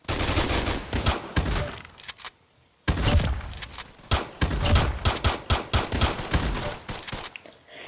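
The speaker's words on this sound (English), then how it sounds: "Shotgun." Repeated shotgun blasts in Roblox fire in sharp, loud bursts, some in quick clusters and some spaced apart, with a brief silent gap partway through.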